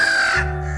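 A single crow caw played as a sound effect in a children's story about a thirsty crow, one short harsh call, close and clear, fading into a low hum.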